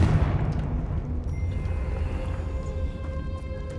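A Confringo fire spell explodes in the video game Hogwarts Legacy, a heavy boom with a rumbling low-end blast that decays into a lingering roar, with no voices.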